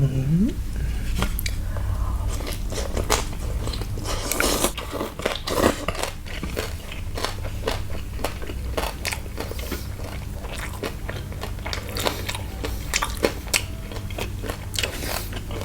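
Crispy pork and fiery spicy papaya salad are bitten and chewed close up, with repeated sharp crunches and wet chewing sounds in an irregular rhythm, and a voice speaks briefly.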